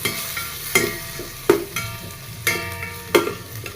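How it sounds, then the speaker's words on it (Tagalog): Pork and tomato sautéing in a pan for Filipino mung bean stew, with a steady sizzle of frying fat under repeated sharp clanks and scrapes of a spatula stirring against the pan, close and alone. "igisa muna natin para matanggal yung kanyang mantika"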